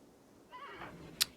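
A horse neighs in the video game RimWorld, a short, thin whinny that rises and falls for under a second, followed by a sharp click, all fairly quiet against a low background.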